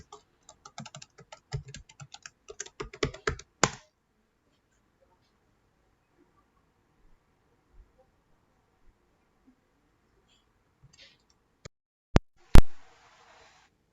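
Computer keyboard keys tapped in a quick, irregular burst for a few seconds while entering a password during a VMware vCenter 6.5 to VCSA 6.7 migration, then near silence, followed by a couple of sharp isolated clicks.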